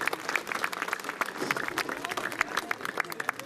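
Audience applause at a panchayat visit event in Uteep, Chamba, as a guest comes on stage to accept a badge: dense, steady clapping from a crowd throughout, with some murmur of voices underneath.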